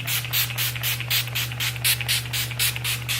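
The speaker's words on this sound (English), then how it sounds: "hit it with a setting spray" A rapid series of about a dozen short, close spritzes of Urban Decay All Nighter makeup setting spray, evenly paced, over a steady low electrical hum.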